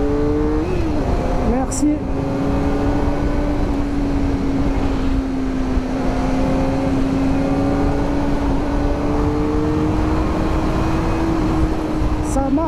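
A 2024 Kawasaki Ninja ZX-4RR motorcycle being ridden, its engine holding a steady high tone that rises and falls gently with throttle over continuous wind noise, while a rider talks over it.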